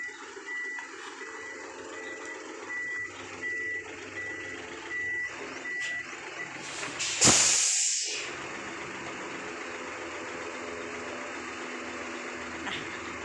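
A tow truck backs up, its reversing alarm chirping in a steady evenly spaced beep over a low idling engine, then a short loud burst of hissing air before the engine hum settles again.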